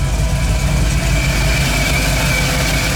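A car engine fitted with an HEI distributor idles steadily at close range, a continuous low rumble with a faint higher whine running through it and no talking.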